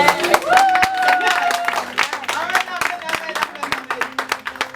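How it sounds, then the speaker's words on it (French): Church congregation at a women's conference clapping in acclaim, dense rapid claps from a crowd with raised voices and cheering mixed in, a voice calling out over the applause. "Acclame le Seigneur encore."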